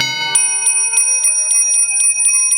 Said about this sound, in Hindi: घंटा जैसे बोला टन